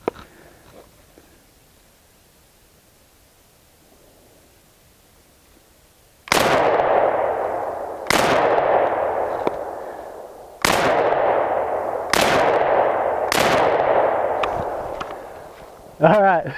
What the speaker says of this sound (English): Let's see if I can hit the shoot and see target down below.